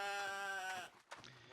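A small sheep bleats once in the video game Albion Online, a clear, wavering, close cry that fades into quieter shuffling noises.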